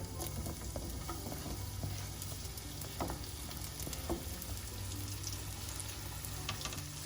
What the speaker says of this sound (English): Now I'm gonna go ahead and saute some onions.